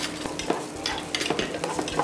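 Carrots sizzle and clatter as they're stirred in a hot pan, with repeated scraping strokes over a steady frying hiss.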